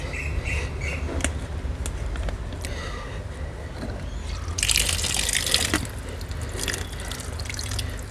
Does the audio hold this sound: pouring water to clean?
yes